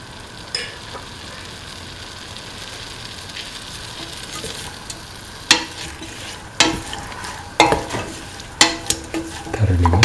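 Green peas stirred into a beef and coconut milk stew mixture in a pan, with a soft steady sizzle underneath and several sharp spoon scrapes and knocks against the pan, growing more frequent toward the end.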